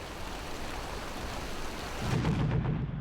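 Torrential rain pours steadily with a low thunder rumble that swells louder in the last second, a dense continuous storm with no voices.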